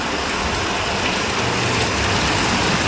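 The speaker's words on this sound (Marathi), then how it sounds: "मस्त पावसाची बरसात चालू झालेली आहे" Heavy monsoon rain in Alibaug pours down steadily, a loud, dense hiss of drops drumming on surfaces without pause.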